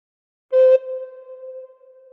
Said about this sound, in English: put finger number 2 on hole number 2 and blow once